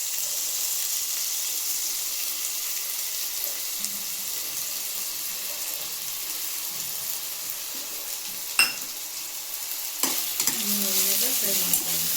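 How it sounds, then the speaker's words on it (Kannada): Eggplant masala with dry coconut powder fries in a pan, giving a steady, close hiss and sizzle throughout, with a few sharp scrapes of stirring near the end. "ಫ್ರೈ ಮಾಡ್ಕೊಳ್ಳೋದು."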